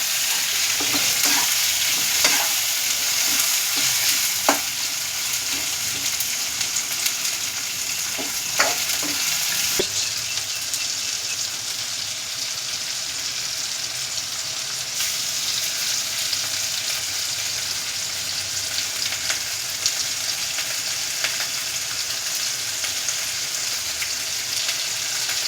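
Finely chopped tomatoes sauté for a Tamil curry, a steady close sizzle of frying broken by scraping stirs of a spoon across the pan.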